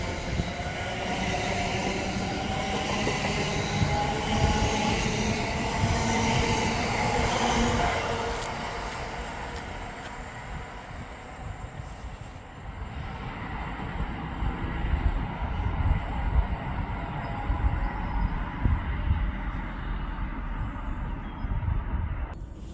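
A London Northwestern Railway Class 730 electric train runs through Berkhamsted station, a loud sustained roar of wheels and motors that fades partway, then rumbles and rattles nearer again with some squeal.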